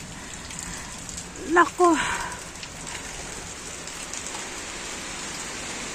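Rain falls steadily as a soft, even hiss on surfaces outdoors in a Philippine garden, with a brief voice speaking over it.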